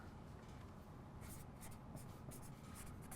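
A pen writing a word on paper, a quiet continuous scratching with short strokes, close and alone.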